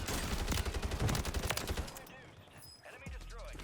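SOA Subverter rifle firing on Rebirth Island in Call of Duty, a fast, loud burst of rapid shots for about two seconds that then stops, leaving quieter game sounds and a voice.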